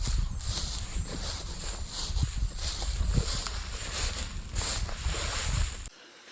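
A 350 ATV four-wheeler pulling a hay rake outdoors gives a continuous rough engine drone with rattling and wind noise, fairly loud and steady until it cuts off sharply near the end.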